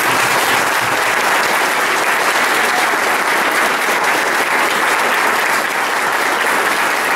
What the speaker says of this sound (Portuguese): vou convocar aqui uma salva de palmas a todos vocês.